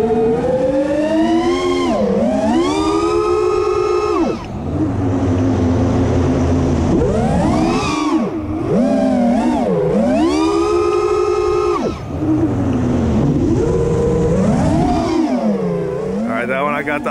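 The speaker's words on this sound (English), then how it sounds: "I just want you to listen to" Close FPV drone motors whine and swoop through rising and falling pitches in repeated runs, the strained tone wobbling with oscillation as the quad drops through its own prop wash.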